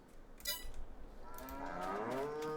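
Cows moo in the farming video game Farming Simulator 22, a couple of drawn-out, low bellowing calls close by, with a brief higher note early on and no talk.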